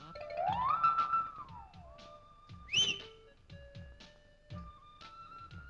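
A person whistles loudly in a comedy scene: a rising, sliding whistle, then a short sharp high whistle, with faint tapping and background noise between.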